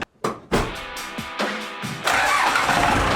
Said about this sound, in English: enjoy the sultry sound of a loud and rattling Cummins 4BT.